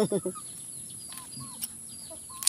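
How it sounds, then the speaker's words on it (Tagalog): A short burst of low clucks opens, then quieter chicken clucks and chirps sound intermittently at a moderate distance in a garden. "Tapos may manok pa dyan."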